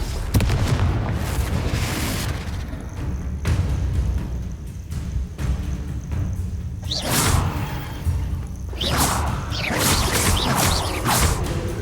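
Confringo fire-spell blasts in the Hogwarts Legacy video game: a series of booming explosions with whooshing bursts, several loud impacts spaced across the clip over a rumbling game background.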